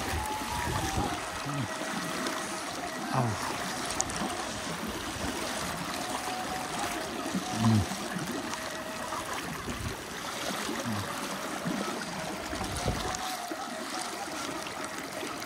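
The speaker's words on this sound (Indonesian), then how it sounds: "Beginilah keadaan banjir yang terjadi di Kecamatan Bayang sana" Floodwater flowing through a village in Bayang district, West Sumatra, a steady broad rushing and trickling wash, fairly close and continuous, with faint background rumble and no talk.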